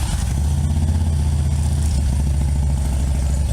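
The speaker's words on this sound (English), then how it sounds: "Bike started right up." A motorcycle engine starting and settling into a steady, throbbing idle, close and continuous with no talking, on a snowy winter day.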